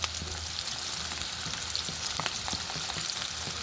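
Tomato pieces fry in a pan with a dense, steady sizzle and small popping crackles, close and unbroken, no talking.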